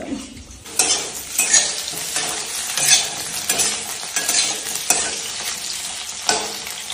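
Potatoes sizzle and crackle in hot oil in a kadai while a utensil repeatedly stirs and scrapes the pan, steady and close.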